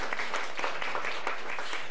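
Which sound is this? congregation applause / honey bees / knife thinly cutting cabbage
congregation applause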